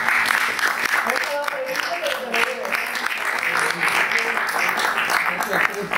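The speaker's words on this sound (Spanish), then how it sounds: "Vamos a darle un aplauso." An audience in a hall applauds a book presenter at a Spanish literary event. The clapping is loud, continuous and crowded throughout, with faint voices mixed in.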